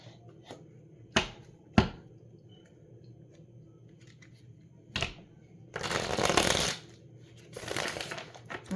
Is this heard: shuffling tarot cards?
yes